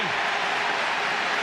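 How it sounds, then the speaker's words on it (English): Tipperary supporters cheer at a 2005 Munster hurling final against Cork, a broad, steady roar of a large stadium crowd sustained throughout without distinct breaks. "Big cheer. Who's cheering? It's Tipperary."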